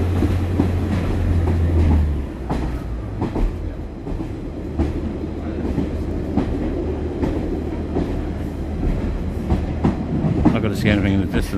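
Class 142 Pacer diesel multiple unit on the Valley Lines rolling past Cardiff Canton Diesel Depot and carriage sheds, with a steady low engine drone, rhythmic clickety-clack of wheels over rail joints and a brief squeal near the end.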